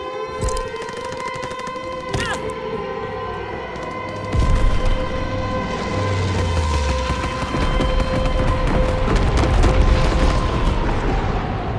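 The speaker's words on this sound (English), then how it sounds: "Low altitude bombing run inbound." Bombing run in the World War II video game Call of Duty: WWII, set around the USS Texas, with a wailing air-raid siren over a continuous heavy rumble of explosions and gunfire that swells louder partway through.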